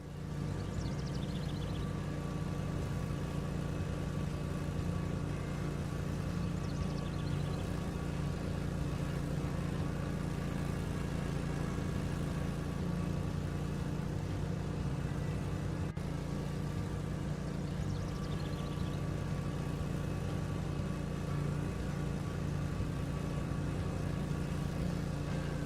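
Mower engine roaring in the Lawn Care Simulator video game, a loud, constant motor drone with no break throughout.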